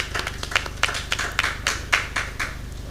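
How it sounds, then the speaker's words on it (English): Sparse applause at a panel event: a few people clap in distinct, uneven claps over a low steady hum, instead of a full crowd. "Please, a round of applause for him."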